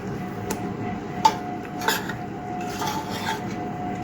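Chicken biryani is being stirred in a pot, with a spoon scraping and clinking against the metal a few times in a quiet kitchen. One clink stands out as sharper, and no voices are present.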